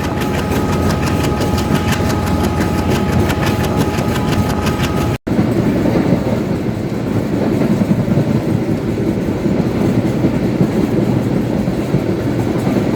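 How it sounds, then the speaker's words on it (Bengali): Loud, continuous rumble of a passenger train between Khulna and Jessore, heard from the first carriage behind the engine, with a droning engine and rattling carriages; a brief dropout interrupts it midway. "আমি ট্রেনের প্রথম বগিতে আছি আর আপনারা দেখতে পাচ্ছেন যে ট্রেনের ইঞ্জিন"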